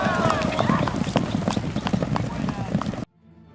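Adai horses gallop in an 80-kilometre international endurance race at Spassk-Ryazansky, Russia, their rapid close hoofbeats drumming steadily under a speaking voice before the sound cuts off abruptly.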